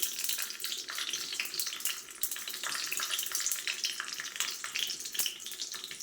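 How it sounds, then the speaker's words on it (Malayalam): Fenugreek seeds fry in hot coconut oil in a clay pot for a traditional Kerala fish curry, giving a steady, bright, close sizzle with no talking. "എണ്ണ ചൂടായിട്ടുണ്ട്, നമുക്ക് ഇതിനകത്തോട്ട് ഉലുവായിട്ട് കൊടുക്കാവേ."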